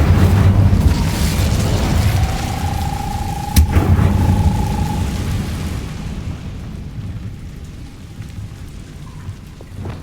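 Incendio fire spell cast in Hogwarts Legacy: one sharp burst with a ringing tone, set against a steady rush of rain and low rumbling.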